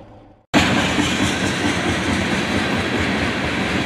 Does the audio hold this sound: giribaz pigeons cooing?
no